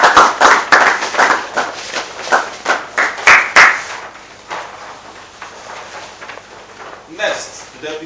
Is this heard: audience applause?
yes